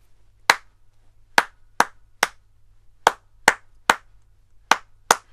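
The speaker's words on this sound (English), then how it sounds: "So listen the way I'm going to clap the first line" Hand claps beat out a rhythm line in a music lesson, ten sharp, close claps spaced unevenly in a short-short-long pattern over a quiet background, with no talking.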